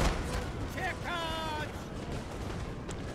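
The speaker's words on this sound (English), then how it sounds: "Oh, and they're shooting into us now." Musket volleys crackle across a battlefield in Empire Total War, a steady distant rumble of massed gunfire with a brief tonal call rising above it.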